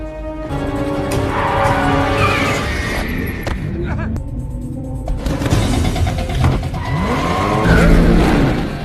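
A red car escapes with tires squealing and skidding, its engine revving in sweeping pitch bends amid loud action-film effects, while voices speak in the scene.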